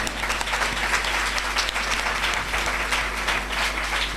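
An audience at a Christian worship gathering breaks into loud, sustained applause, a dense continuous wash of many hands clapping throughout.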